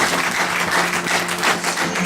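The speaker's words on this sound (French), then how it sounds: "On peut acclamer le Seigneur." A church congregation applauding to acclaim the Lord, a steady wash of many hands clapping close and loud, continuous throughout with a faint tone humming underneath.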